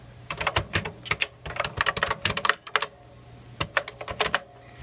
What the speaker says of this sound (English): See, the keyboard's working pretty well again.